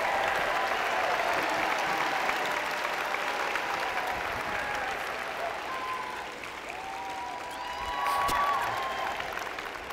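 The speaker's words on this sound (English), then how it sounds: "let's give them a big round of applause for our principals" A school-district audience at an opening day ceremony applauds its principals and assistant principals with loud, sustained clapping and some cheering, continuous throughout and swelling again near the end.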